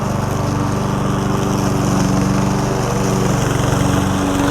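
A cheap Chinese remote-control lawn mower cuts grass with a loud, steady, close motor drone and blade whir holding constant throughout, with no voices.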